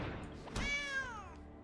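A cat character in the Magic Arena card game gives a single clear, rising-then-falling meow of about a second, preceded by a soft thunk, over quiet game background.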